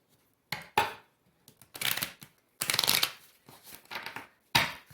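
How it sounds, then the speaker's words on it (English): Tarot cards being shuffled up close, in several quick papery bursts separated by short pauses, each riffle crisp and brief. "as I was shuffling the card"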